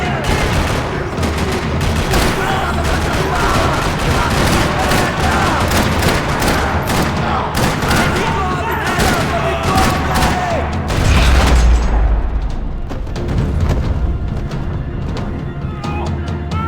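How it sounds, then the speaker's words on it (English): Dense bursts of gunfire rattle continuously in a parking lot in the video game Max Payne 3, rapid overlapping shots and booms from nearby, with a heavy thump near the end and faint voices beneath. "Another parking lot rattling with gunfire."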